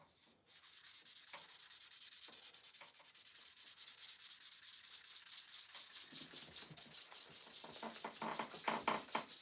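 Hand sanding around a tobacco pipe bowl while it is being shaped: a steady, close scratchy rubbing that continues with no break, grows a little coarser and more uneven toward the end, and has no talk over it.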